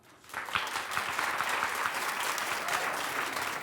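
Studio audience at a daytime talk show breaks into sustained, dense applause, rising quickly and holding loud and steady throughout with no speech over it.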